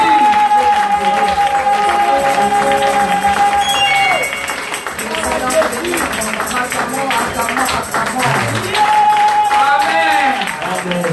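A church congregation applauds and cheers during a worship service, a sustained crowd of clapping and shouting voices that stays loud throughout, with a held sung or shouted tone rising above it at the start and again near the end.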